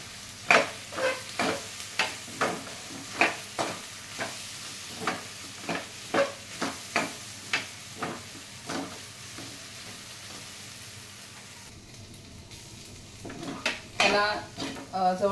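Okra frying in oil in a pan with besan, a spatula scraping and stirring in a steady rhythm of about a dozen strokes over a soft sizzle, then a brief pause and a louder clatter at the end.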